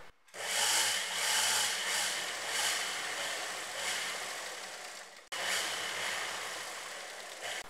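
A sewing machine stitches a border strip onto an anarkali kurta, running in a steady, continuous whirring hum, close and moderately quiet, with one brief pause near the end before it resumes, and no speech.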